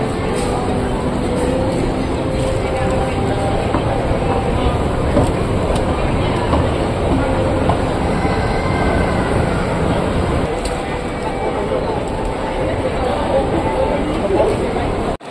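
A metro train runs at VivoCity station in Singapore, giving a continuous loud rumble and hum throughout, with crowd noise and voices mixed in.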